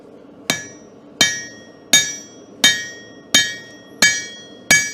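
A blacksmith's hammer strikes metal during forging, seven sharp ringing blows at a steady, unhurried rhythm, close and loud, each with a bright metallic ring that fades before the next hit, with no talking.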